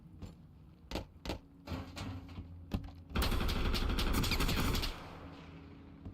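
Bursts of MP5 and pistol fire in the Road to Vostok video game. Scattered single cracks are followed by a dense, loud volley lasting nearly two seconds, with no talking.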